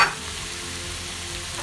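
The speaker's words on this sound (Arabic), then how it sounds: "ملح، نحط كمان ايه معلقه فلفل، ونقلب كل حاجتنا مع بعضها" Minced meat seasoned with salt, pepper and nutmeg being stirred in a hot pan, a steady close sizzle running the whole time without a break.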